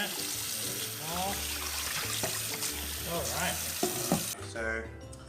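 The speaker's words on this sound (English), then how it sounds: "So I'm going to wash this thoroughly, okay?" Oxtail meat being washed under a running kitchen tap, water splashing and gurgling into the sink with handling noises and intermittent voices, the flow cutting off near the end.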